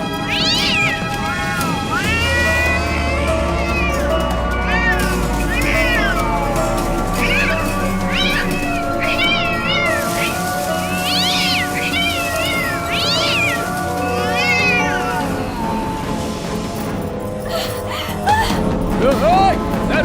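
A cat meows repeatedly in drawn-out, wailing cries over a steady hum and music in a Hindi-dubbed film scene, with people speaking in the background.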